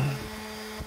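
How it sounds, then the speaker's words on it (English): Power sanding on a trashed chair under restoration, a steady mechanical whir at moderate level that holds throughout the second, with a slight surge near the end and no talking. "Sanding and sanding"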